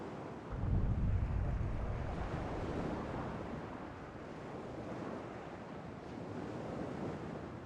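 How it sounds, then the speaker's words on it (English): Pacific Ocean waves smacking against rocks on the coast, a steady broad roar with a heavier surge early on, rolling on continuously alongside wind buffeting the microphone. "We walked around for a while and watched the waves smack against the rocks."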